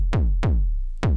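Three deep, punchy kick drum hits from an Ultra Kick module on a modular synth, fired by a Bernoulli gate in coin-toss mode, land at uneven intervals, each a sharp attack with a booming, fast-decaying tail.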